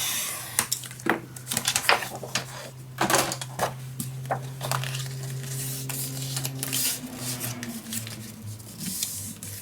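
A half-inch score line being pressed into paper for a steampunk Christmas mini album: soft repeated scraping strokes and taps, close and quiet, over a low steady hum.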